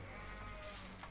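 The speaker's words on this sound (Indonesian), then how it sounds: "Ini adalah 4 ekor domba yang saya miliki." Sheep on a small farm bleat in a brief, faint call against a steady background hum, with no talking.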